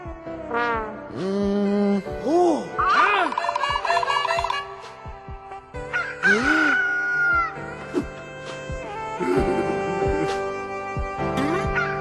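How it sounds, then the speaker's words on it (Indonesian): A rooster crows loudly several times in succession, each call rising and falling, with occasional clucking between, close by and without talk. "Saat mendengar ayam berkokok, Petrus menangis sedih sekali."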